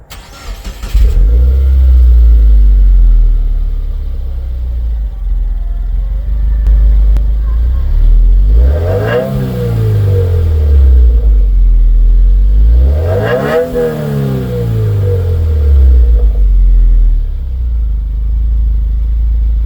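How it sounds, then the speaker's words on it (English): A 2019 Subaru WRX with stock exhaust cranks and starts, then idles with a deep rumble, revving up sharply twice before settling back down; loud and close. "Not too bad for the stock exhaust. Doesn't really have the same Subaru rumble"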